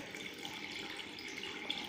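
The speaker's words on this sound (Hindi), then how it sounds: "पानी चालू हो जाता है।" Water flowing from the outlet of a simple automatic irrigation system, a faint, steady splashing hiss running continuously without any voices.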